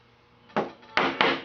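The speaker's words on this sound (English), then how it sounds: "Just tap tap to make a little mark" Three sharp taps of a chisel on wood as a mortice is marked out, a single knock followed by two quicker ones, close and clear with no talking.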